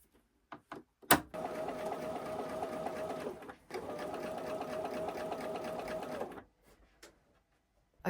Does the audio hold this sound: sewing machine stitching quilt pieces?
yes